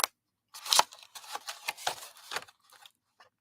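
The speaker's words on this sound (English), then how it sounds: "We're actually going to cut up this tab," Scissors cutting through a fabric tab, a run of close, crisp snipping strokes in quick succession, then a couple of faint trailing snips, with no talking.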